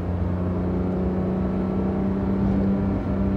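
Porsche 911 GT3 with a 4-liter engine, likely a 991.2 manual driving near, a steady loud droning hum with a constant pitch and no talk.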